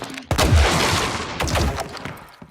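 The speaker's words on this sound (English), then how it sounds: "I love all of the like tech sounds are great, like these gunshots" Rapid bursts of synthetic gunfire in the video game Hyper Light Breaker, loud and close, with overlapping shots rattling off in a dense volley and a slightly metallic, processed edge.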